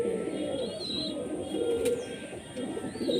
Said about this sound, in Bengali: এই আমার পায়রা, এটা হচ্ছে ব্রিডিং লফট,